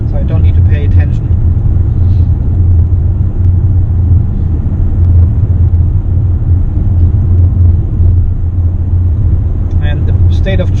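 A Mitsubishi Outlander PHEV cruising at a steady 100 km/h on a highway while recharging its battery, giving a constant loud low road and engine rumble with tyre noise throughout, unbroken for the whole stretch.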